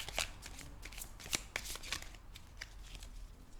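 Oracle cards being shuffled by hand, a series of quick papery riffles and soft slaps in uneven bursts, close and quiet, with no talking.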